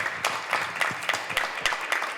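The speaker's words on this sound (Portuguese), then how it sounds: "uma salva de palmas para o Waldemar aqui" Sparse, rhythmic hand clapping from an audience at a talk on protests in Brazil, honoring an 82-year-old guest; individual claps ring out at a steady beat, fairly quiet and close.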